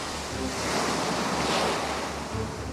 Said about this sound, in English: This is just the big swells coming out in front of the storm.